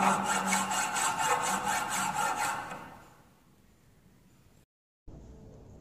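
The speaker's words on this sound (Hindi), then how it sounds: "इसे फिनिशिंग करने के लिए हम हैंड फाइल का प्रयोग करते हैं।" Hand file strokes finishing a 90-degree metal workpiece, a steady series of rhythmic rasping passes close up for about three seconds, then fading to quiet with a brief dropout.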